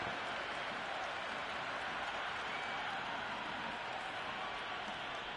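Steady, dense applause and cheering from a stadium crowd at a cricket match in the Cricket 26 video game, a constant loud wash of clapping with no breaks.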